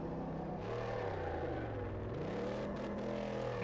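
In Car Mechanic Simulator 2018, a car engine labours in first gear, its low uneven rumble sagging and wavering near stalling as the revs drop, steady and close with no voices.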